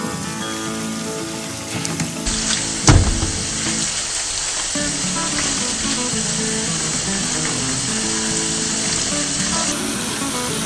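Running water hisses steadily from a tap as grocery-store apples are washed under it, a broad continuous rush with a brief clatter early on, no talk.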